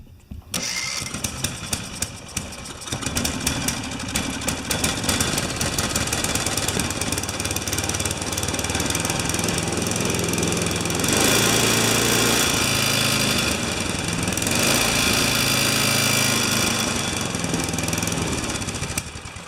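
A small engine, probably a lawn mower, is started with choke and throttle and roars up loudly at close range, then runs steadily with a throbbing, uneven note and brief surges.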